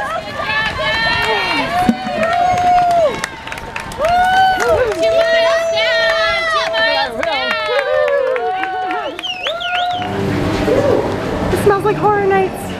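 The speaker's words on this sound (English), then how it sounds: "We got some people awake here cheering us on." Spectators at a Disney Star Wars Dark Side half marathon shout and cheer runners on, with lively, rising calls and voices close by, over the steady patter of running feet.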